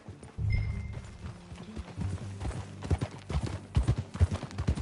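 Galloping horse hooves in the video game Red Dead Redemption 2, a steady run of close, thudding beats that grow busier and more irregular toward the end, with no talk.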